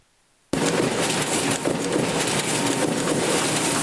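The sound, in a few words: printing presses running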